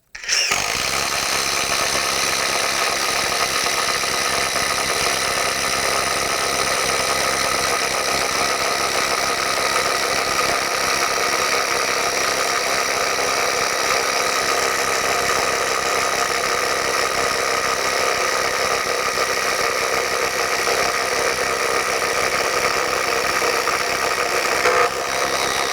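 A compact cordless impact driver hammers a 1.5-inch spade bit through an old treated 6x6 post. Its harsh, buzzing whine runs loud and unbroken for the whole stretch, up close, with no talking.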